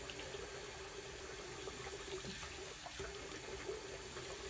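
Tap water runs steadily from a faucet into a sink while someone washes their face, a continuous close splashing wash with no talking.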